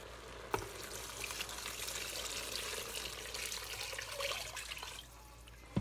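Hot broth poured steadily into an Instant Pot while making chicken soup, a continuous close splashing, gurgling flow that runs for several seconds and then tapers off.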